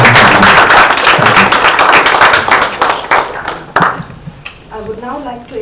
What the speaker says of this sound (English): we should give a big round of applause to all the participants